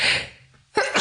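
A single sharp sneeze bursts out close and loud after a brief quiet stretch, preceded by a breathy intake, as if from a podcast host mid-conversation in a studio.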